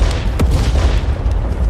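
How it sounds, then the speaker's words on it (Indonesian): A large explosion goes off in an animated fantasy battle against a demon king, a sudden deep boom followed by a sustained, loud rumbling roar that fills the whole stretch. "sebuah ledakan besar tiba-tiba terjadi."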